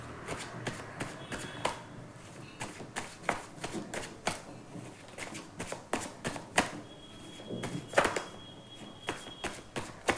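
Tarot cards are shuffled by hand in a quick run of crisp riffles and slaps, close and fairly soft, with irregular bursts and short pauses between them.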